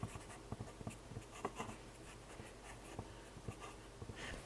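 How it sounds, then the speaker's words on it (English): A pen writing on a repaired Amiga 600 floppy drive, faint scratchy strokes in short clustered bursts, close but quiet, with no talking. "I'm just going to write on it so that we know what the problem is."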